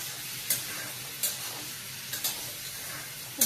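Gaati kochu taro pieces with turmeric and salt being stir-fried in a pan, a soft, steady sizzle broken by periodic scraping strokes of a spatula, fairly quiet and close.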